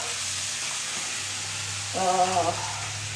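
Onion, red pepper, garlic and cumin sizzle in a hot pan with a steady frying hiss, then a louder burst of sizzling about halfway through as the pan is stirred.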